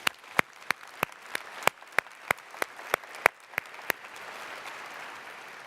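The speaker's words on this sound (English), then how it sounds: "Please join me in a round of applause one more time" Audience at a LeadingAge annual meeting gives a round of applause, with a few sharp individual claps standing out over a steady crowd patter that fades out after about four seconds.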